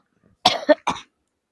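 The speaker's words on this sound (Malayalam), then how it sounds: "നല്ല ചുമ" Three short, sharp coughs in quick succession, close by, followed by silence.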